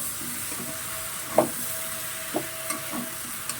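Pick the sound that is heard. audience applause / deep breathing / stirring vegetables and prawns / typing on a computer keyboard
stirring vegetables and prawns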